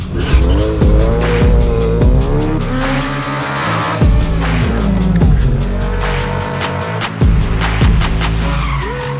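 Race cars at a national slalom event in Antipolo, with loud tires squealing repeatedly through sharp turns while engines rev and roar, close and continuous throughout.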